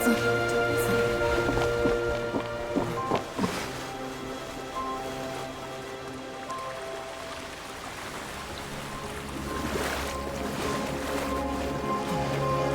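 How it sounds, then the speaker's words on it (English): Waves and receding water from the game Genshin Impact, a steady wash of surf and water noise running throughout with layered game music tones over it. "Look! The water's receding!"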